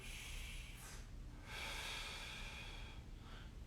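Quiet, close breathing during a floor mobility stretch: a couple of soft airy inhalations and exhalations, with a longer drawn breath in the middle, faint and unaccompanied.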